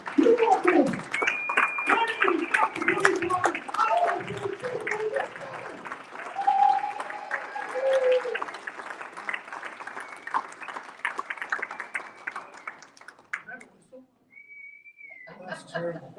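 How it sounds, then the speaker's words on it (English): A seminar crowd claps and cheers with whistles mixed in, the applause rising under shouting voices and then trailing off into quieter chatter near the end. "I want you guys to give yourself a round of applause"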